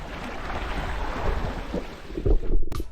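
Strong sea wind buffets the microphone aboard a small fishing boat, a constant loud roar with gusts that swell near the end, with waves churning beneath and no speech.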